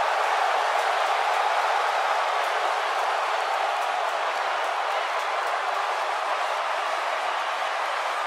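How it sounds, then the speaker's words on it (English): A dense, steady roar of a video game wrestling arena crowd, cheering and clapping continuously at an even volume throughout. "it sounds to me like the crowd is more than ready for this one"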